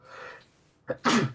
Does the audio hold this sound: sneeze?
yes